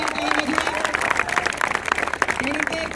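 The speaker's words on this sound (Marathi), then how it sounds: "वक्ता आणि शिक्षक सतीश शिंदे सर यांच्यासाठी जोरदार टाळ्या वाजवा." An audience at a student protest bursts into applause, a dense patter of many clapping hands lasting a few seconds, with a voice speaking over it.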